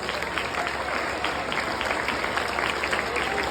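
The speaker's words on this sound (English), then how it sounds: "give a round of applause to your parents and families" Sustained applause from a large audience at a recognition day ceremony, a dense steady wash of clapping that fills the whole clip at an even, fairly loud level.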